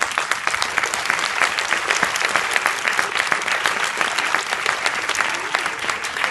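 An audience applauds at a ten-year anniversary ballet event, dense sustained clapping filling the room at steady loudness throughout.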